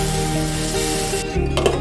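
Raw mango pieces with salt, turmeric powder and asafoetida are stirred in a frying pan, giving a brief, close scraping stir over a soft sizzle.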